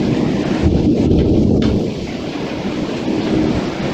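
Rain falls steadily in São Paulo, with a low rolling rumble of thunder beneath a dense, loud wash of rain that continues without talk.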